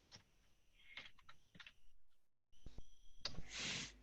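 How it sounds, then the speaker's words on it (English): Clicks and taps from a faulty computer keyboard being typed on during an online meeting, short bursts of keystrokes with a brief silent gap, then a louder cluster of clacking near the end. "my keyboard is playing up on me"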